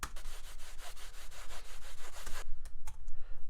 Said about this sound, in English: I actually recorded myself scratching against this box of tissues